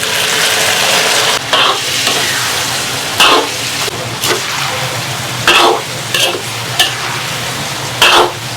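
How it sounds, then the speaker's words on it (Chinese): Pork sizzles loudly in a hot wok as scallion, ginger and aromatics are stir-fried, with a steady frying hiss broken by repeated scraping strokes of a spatula against the pan. "然后下入香料，下入葱姜，给它煸至上色"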